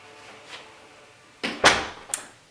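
An indoor door swings shut at home with a soft bump followed by a louder close thud and a small latch click, all near and otherwise quiet.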